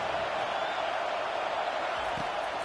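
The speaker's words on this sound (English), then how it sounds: "Listen to this crowd just shaking the girders of this place, trying to help their defense." Stadium crowd at a football game roaring to help the defense, a dense, sustained wall of cheering and noise that fills the whole stretch with no break.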